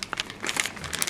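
Wrapping paper crinkles and crackles in short, close bursts as its edges are folded down around a Christmas present.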